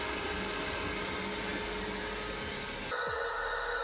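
A wall-hung Japanese shower toilet runs its automatic rear wash and then its dryer, a loud, steady, close whooshing hum whose tone shifts abruptly partway through as the drying fan takes over.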